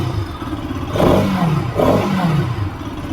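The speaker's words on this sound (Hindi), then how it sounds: "बाइक अभी स्टार्ट है तो साउंड की तरफ देखते हैं।" A Bajaj Pulsar RS 200 motorcycle engine runs close by with a steady mechanical note, rising in two short revving swells before dropping back, with no voices over it.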